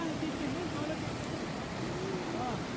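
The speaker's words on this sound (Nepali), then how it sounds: "खोलो बगिन्छ पानी बगिरहेको छ" Flowing water of the Ganges river rushing steadily as a broad wash of noise, with a crowd and faint voices in the background.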